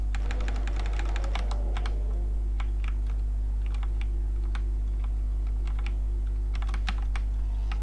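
Computer keyboard keys clack in quick irregular bursts during a game of Doom, loud and close, over a steady electrical hum.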